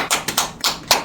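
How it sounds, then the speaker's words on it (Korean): A few scattered hand claps from a church congregation during a worship service, four separate sharp claps spaced unevenly, close and fairly loud, with no voices. "아버지께 영광의 박수를 올립니다."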